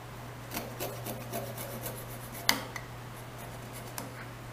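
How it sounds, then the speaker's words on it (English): A small hand saw cuts into a chokecherry wood goblet, giving faint, rasping strokes in an uneven rhythm over a steady low hum. One sharper click stands out partway through. "The little saw works the best."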